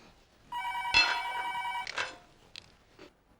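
A telephone rings at night in a home, one long electronic ring followed by a few shorter bursts, loud and clear with no talk over it.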